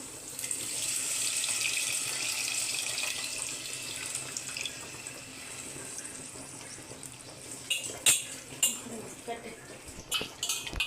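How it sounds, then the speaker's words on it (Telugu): Tamarind water pours steadily into a pan with a continuous hissing splash, followed by a few sharp clinks of utensils against metal near the end. "చింతపండు పులుసు పోసుకున్నాం"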